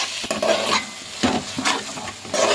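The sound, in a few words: stirring vegetables with ginger in a pot for biryani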